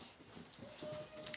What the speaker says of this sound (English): Hey, Maddie, will you come get one of the dogs? Because they're being loud.